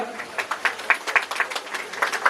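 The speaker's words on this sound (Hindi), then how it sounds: "इनके लिए एक बार जोरदार ताली होनी चाहिए" A crowd applauds at a Patar Munda community student honour ceremony in Jharkhand in 2023. The clapping is steady, rhythmic and moderately loud, and lasts a couple of seconds.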